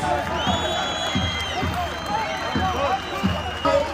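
Crowd at a night-time oil wrestling festival on a highland plateau applauding the club president, scattered clapping and cheering under an announcer's voice and whistling tones.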